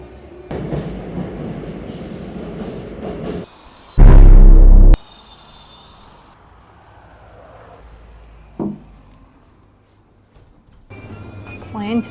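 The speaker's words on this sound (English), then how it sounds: "In Moscow, every day starts and ends with subway." A Moscow metro train rumbles along underground with a steady roar, broken by a sudden loud burst of clatter and a few sharp clanks. A voice talks over the first part.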